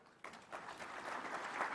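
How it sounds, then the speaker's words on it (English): An audience at the Devolution Conference 2023 opening ceremony breaks into applause, the clapping starting abruptly and building into a steady, faint patter that fills the hall. "A round of applause for the Prime Cabinet Secretary."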